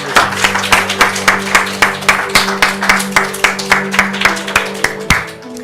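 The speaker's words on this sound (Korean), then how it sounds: "우리 주님께 영광의 박수를 올려드리겠습니다" A Korean Sunday church congregation claps together in a strong, regular rhythm, each beat sharp and close, over a sustained musical tone that continues throughout.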